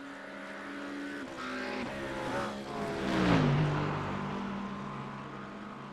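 McLaren and AMG GT race cars roar around Spa-Francorchamps in a sim racing game, engines droning and shifting pitch, then one car sweeps loudly past before fading back to a steady hum.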